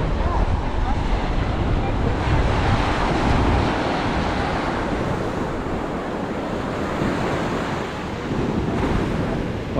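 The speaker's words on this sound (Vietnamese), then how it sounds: "Wow, hôm nay gió mạnh đấy nha." Strong wind blows across a beach in Nassau, Bahamas, with waves surging and washing continuously. Loud, dense roaring and buffeting fill the whole stretch.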